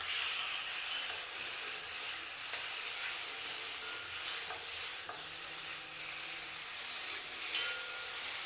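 Spices for a fish curry with olkobi cook in a covered pan, a steady low sizzle and hiss with faint stirring scrapes, close and continuous, no voices.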